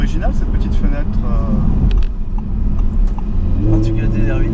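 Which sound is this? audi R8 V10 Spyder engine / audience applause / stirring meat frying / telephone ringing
audi R8 V10 Spyder engine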